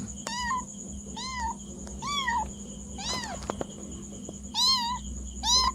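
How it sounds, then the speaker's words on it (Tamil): A cat meows again and again, roughly six separate rising-and-falling calls spaced through the stretch, clear and fairly close over a quiet background. "பூனை"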